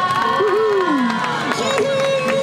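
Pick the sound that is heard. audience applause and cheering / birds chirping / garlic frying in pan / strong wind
audience applause and cheering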